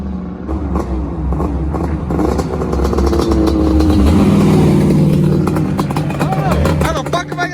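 A Yamaha Banshee engine revs hard and steadily while being ridden, a close, continuous snarling drone that rises and dips slightly, with a voice talking over it.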